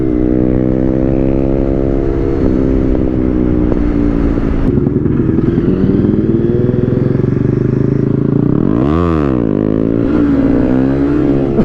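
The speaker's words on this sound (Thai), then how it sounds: "พลังของหนึ่งสูบสามร้อย ซีซีนี่มันเยอะชิบหาย" A Honda CBR300R single-cylinder 300cc motorcycle is ridden with a loud, close engine drone whose pitch climbs and drops through gear changes and throttle swells, including one sharp rev, with no talking.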